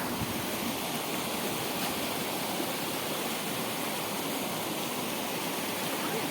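The Kakochang waterfall in Karbi Anglong, a constant broad roar of rushing water, steady and fairly distant, with no voices over it.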